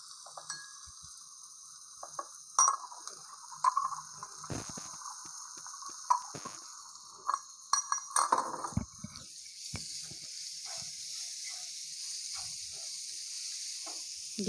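Ginger garlic paste frying with vegetables in a pan for masala rice: a faint, quiet sizzle runs steadily beneath scattered soft clicks and scrapes of stirring.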